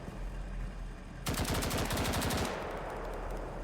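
Machine gun fire in the Roblox game BRM5: a sustained automatic burst of rapid, evenly spaced shots lasting just over a second, loud and close, followed by a fading echo tail.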